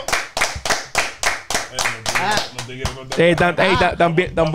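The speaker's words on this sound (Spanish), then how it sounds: "¡Aplausos!" Rhythmic group clapping on a podcast, sharp evenly spaced claps at first, then voices chanting along over the beat as the clapping continues, close and lively.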